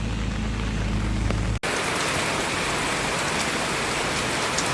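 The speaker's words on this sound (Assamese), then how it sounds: "এতিয়া বৰষুণৰ পৰিমাণটো বহুত বাঢ়ি গৈছে" Heavy rain falls hard onto surfaces in a rural farming area, a dense unbroken hiss of drops that turns louder and brighter after a brief cut early on.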